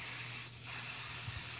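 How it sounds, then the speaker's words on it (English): Embroidery spray adhesive sprayed onto a clear cutting mat, heard as a short, steady aerosol hiss lasting about a second and a half at close range, with no talking. "So I use my spray adhesive that I use for embroidery"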